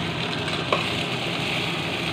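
A vegetable curry with turmeric and salt sizzles steadily in a pan while it is stirred, with one brief scrape of the utensil near the start and a constant, close frying hiss.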